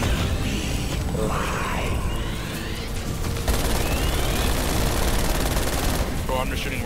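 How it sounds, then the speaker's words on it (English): Dense, continuous gunfire from Call of Duty: Black Ops Cold War Zombies, a steady wash of rapid shots that runs throughout, with occasional electronic game effects layered in. "Bro, I'm just shooting randomly."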